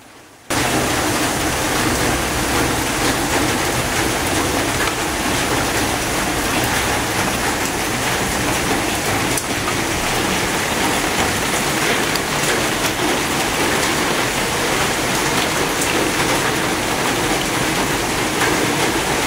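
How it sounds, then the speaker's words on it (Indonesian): Steady, heavy rain pours after a brief quiet start, a dense, loud and even hiss that continues unbroken throughout with no voices. "Dengan turunnya hujan, maka kondisi tanah menjadi lembab"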